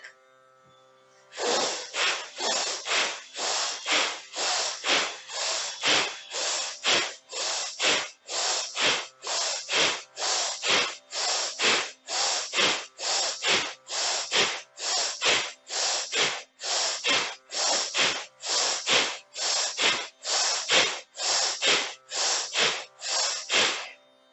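Yoga breathing practice: about thirty forceful, rhythmic exhalations through the nose, evenly spaced and close up, keep a steady pace for over twenty seconds with no talking.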